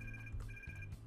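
A phone ringtone in a video game trills in two repeated bursts, steady and fairly quiet, with a low buzzing vibration beneath.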